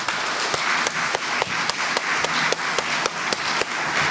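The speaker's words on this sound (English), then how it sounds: "One more round of applause for not only our 8th grade winners" Steady, fairly close audience applause follows a poetry reading at a peace poetry contest, with sharp individual claps punctuating a rhythmic, sustained ovation.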